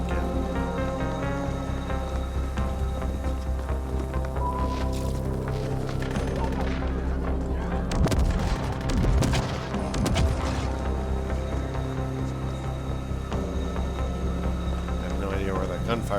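Automated turrets firing in the sci-fi shooter Ascent, heard as dense bursts of gunfire and booms that swell over a constant loud bed of game music and hum.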